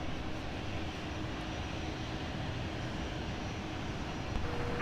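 Aircraft at Minneapolis–Saint Paul airport, a steady, fairly loud broadband engine roar that holds evenly throughout with no voices.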